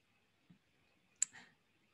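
A couple of computer mouse clicks while right-clicking to export Javadoc, one soft click then a sharper one a moment later, close and quiet in an otherwise still room.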